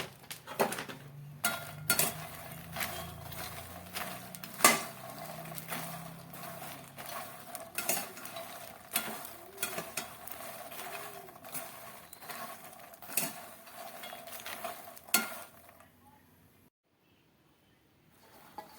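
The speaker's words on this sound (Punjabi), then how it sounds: "ਆਪਾਂ ਬਿਨਾਂ ਘਿਓ ਤੋਂ ਭੁੰਨਾਂਗੇ" Ingredients for winter panjiri are dry-roasted in a pan without ghee, a spoon scraping and clinking against the metal in steady, irregular strokes for about fifteen seconds before falling quiet.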